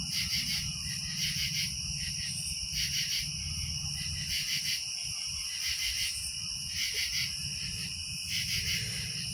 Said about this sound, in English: All them locusts, or not locusts, but cicada.